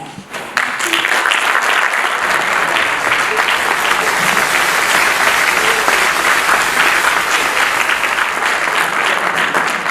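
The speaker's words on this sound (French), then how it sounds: "S'il vous plaît, applaudissements." Loud sustained applause from a theatre audience at a French comedy stand-up show, dense clapping that starts abruptly and continues evenly without talk.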